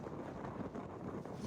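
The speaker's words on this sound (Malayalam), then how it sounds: "നല്ല കാറ്റുണ്ട് കേട്ടോ." Strong wind on a hilltop overlooking Edinburgh near the National Monument, a steady, dense roaring buffet across the microphone with no pauses, no voices.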